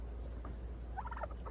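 A young turkey hen gives a brief burst of soft, quavering gobbling calls, faint over a steady low background hum.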